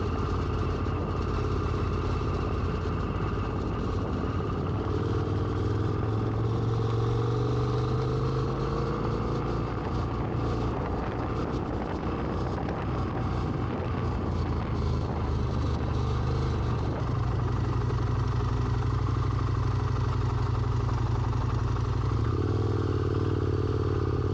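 A KTM 1190 Adventure R motorcycle rides on a road near pine forest, its engine droning steadily and close throughout, with shifting pitch as throttle changes and a constant wind rush.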